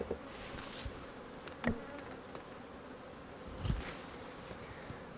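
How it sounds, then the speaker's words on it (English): Faint, steady buzzing of many bees around a hive, with a couple of brief louder bumps and rustles near the recorder. "Lots of bees there."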